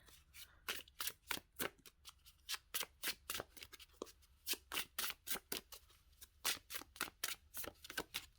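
Tarot cards shuffled close by in quick, rhythmic riffles, with repeated crisp bursts of card flutter and slaps at a steady pace throughout.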